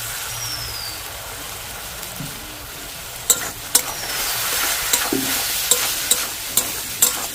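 Vegetables frying with tomato ketchup and soy sauce alongside fried egg, a steady hiss of sizzling oil with several crisp spoon scrapes and taps against the pan in the second half.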